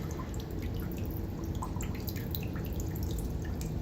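Water squirting and dripping into a flooded basement after heavy rains, a steady wet trickle with scattered drip splashes running continuously at low level, no voices.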